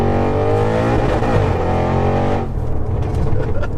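An 820 bhp methanol-injected Audi RS6 engine roars loudly from inside the car, its rising revs climbing through a gear before easing off into a lower, rumbling drone.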